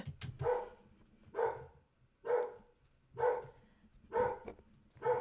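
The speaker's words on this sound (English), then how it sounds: "my dog sees something outside and she's going to lose her shit for a second." A dog barks at something outside the house, six sharp barks in a steady rhythm about a second apart, loud and close, with no talking.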